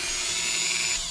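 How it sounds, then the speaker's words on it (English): Power drill boring holes in the plastic body of a 1968 Pontiac GTO scale model car, a steady high-pitched whine running continuously at close range with no talk. "take the drill and go from the back side when you're trying to make the hole"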